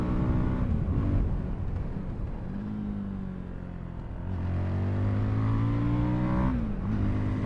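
Fantic Caballero 500 scrambler motorcycle engine running continuously and loud up close, its note rising and falling through revs with a dip mid-way before pulling strongly again, no voices.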